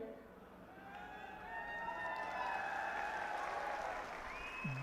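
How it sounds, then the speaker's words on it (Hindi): A large outdoor crowd at a Congress election rally in Mahendragarh, Haryana, breaks into sustained clapping and cheering that swells and holds as a dense, continuous roar, with whistles and shouts rising above it. "अभी आपने जल्दी ताली बजा दी"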